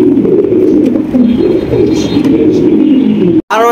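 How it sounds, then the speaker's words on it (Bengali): A pair of jet-black Lahori pigeons coo in low, rolling, continuous phrases close by, with a brief pause near the end followed by a short burst of voice. "আরো একজোড়া লাহোরি কবুতর"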